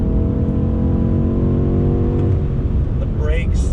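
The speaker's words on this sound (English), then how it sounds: "Twin turbo V8 power." BMW M8 Gran Coupe twin-turbo V8 engine accelerating hard from inside the 2020 performance sedan, a loud sustained roar with a steady rising drone that shifts after a couple of seconds, as if changing gear.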